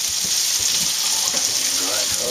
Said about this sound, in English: we do definitely got a rapid boil there